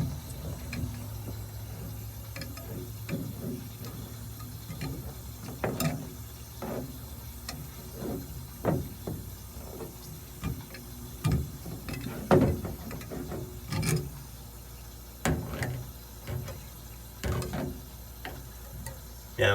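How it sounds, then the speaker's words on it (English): A loose freezer fan on a Frigidaire freezer being turned by hand during repair, irregular close clicks, ticks and small mechanical knocks with pauses between, over a quiet hum. "Now I'm turning it by hand pretty much now because it's pretty loose, so it's not going to hurt the fan"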